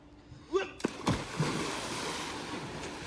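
Water splashes in a swimming pool, a few close splashes and a plunge early on, then a steady wash of rippling water, with people talking over it.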